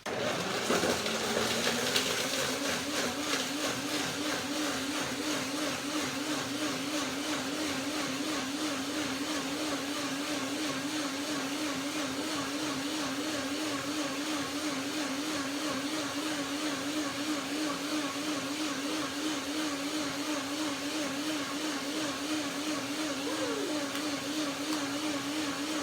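A blender blending cashew cream runs steadily for the whole stretch, a loud continuous whir with a wavering motor pitch and churning, no talking.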